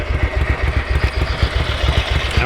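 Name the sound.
Ducati 900SS bevel engine idling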